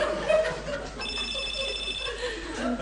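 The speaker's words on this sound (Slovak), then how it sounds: "zvoní ti telefón" A telephone rings on stage during a Slovak stage play, a brief electronic trill of about a second heard amid spoken dialogue and light audience laughter.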